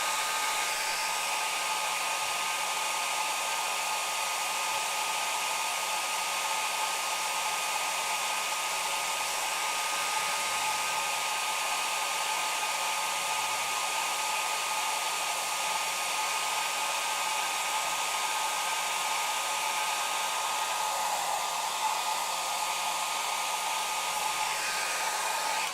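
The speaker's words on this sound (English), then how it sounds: "The hair dryer keeps trying to blow them away out of my hands." A hair dryer blows continuously while Warhammer 40k miniatures are being built, a loud, unbroken whooshing roar with a steady motor hum and no talking.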